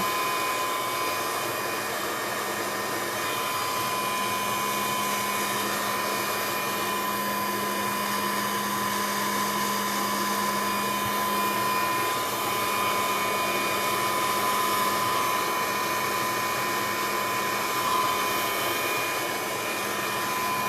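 A hair dryer blows continuously over a mixed-media triangle craft canvas decorated with seashells, a loud, steady, unbroken whoosh with a faint whine, heard alone for the whole stretch.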